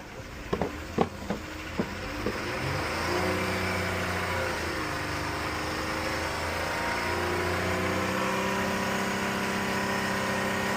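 The 3.6L VVT engine of a 2012 Chrysler 200 during a coolant reservoir replacement and bleed, a few sharp blips at first, then a sustained rising rev that holds steady near the car.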